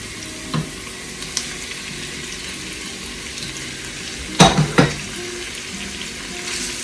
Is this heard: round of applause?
no